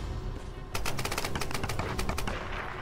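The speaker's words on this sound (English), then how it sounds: "Shooting." Gunfire in Tomb Raider: Definitive Edition: after a low rumbling lead-in, a rapid string of close, sharp shots fires in quick succession and continues to the end.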